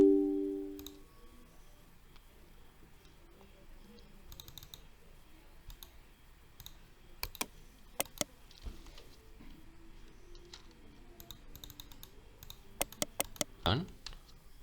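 Laptop keyboard typing and clicking on a Windows 11 laptop: faint scattered keystrokes with a few sharper clicks in short bursts, close and quiet over a low background hiss, with a voice briefly at the start.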